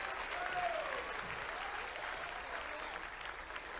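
A church congregation applauding together during a sermon, a steady dense wash of clapping throughout with some faint voices mixed in.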